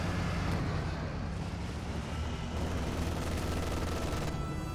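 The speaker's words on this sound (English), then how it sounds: "MG42 suppressing down the conscripts." Dense, continuous MG42 machine gun fire in the World War II strategy game Company of Heroes 2, a loud sustained battlefield rattle with overlapping bursts and no pauses, heard without talk.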